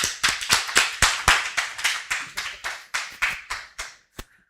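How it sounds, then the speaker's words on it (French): Crowd clapping at a Côte d'Ivoire Independance Day celebration, with loud rhythmic bursts of applause in a steady beat that fade and end on one last sharp clap. "On acclame très fort."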